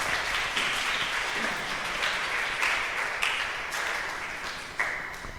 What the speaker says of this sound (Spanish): Denle un aplauso a los actores.